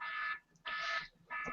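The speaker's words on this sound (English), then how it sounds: "that was the alarm to remind me to come back for the cast." An electronic reminder alarm beeps in repeating bursts, three sharp high-pitched tones each about a third of a second long with brief pauses between, clear and moderately loud with no speech.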